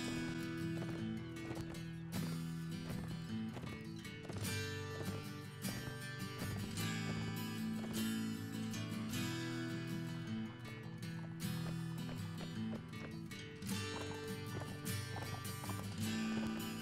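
Horse from the pirate PC game Blood & Gold: Caribbean, steady clip-clop of hooves with an occasional neigh over a continuous bed of game music and ambience, moderately loud throughout.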